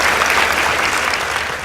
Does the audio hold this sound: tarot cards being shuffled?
no